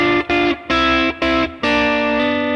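Distorted electric guitar plays a blues lick in thirds with a hammer-on, several sustained double-stop chords separated by brief gaps before a longer final ring, loud and alone.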